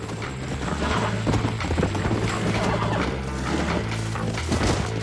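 Horse hooves clip-clop in a steady rhythm in the western game Red Dead Redemption, loud and close, with a whinny and scattered knocks mixed into the continuous gallop.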